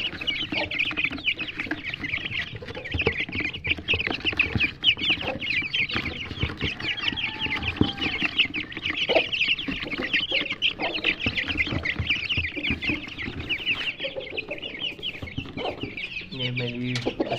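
Chickens, including an Aseel hen and rooster and desi hens, cluck and chatter while eating feed inside a bucket, with busy, overlapping calls at close range throughout.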